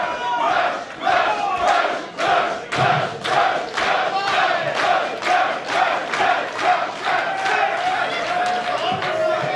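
A pro wrestling crowd at a PWG event in Reseda cheers and chants steadily, a loud, rhythmic mass of voices with repeated clapped or shouted beats throughout, nearly unanimous in support of one wrestler.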